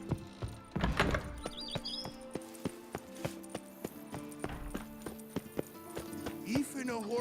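A horse gallops steadily in The Witcher 3, its hooves clip-clopping in a regular, rapid rhythm over game music and birdsong, with a brief voice near the start.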